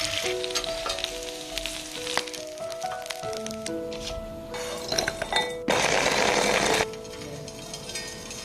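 Food frying in a pan gives a steady sizzle with light clinks and stirring, swelling into a louder burst of frying about two-thirds through, over a faint tonal background.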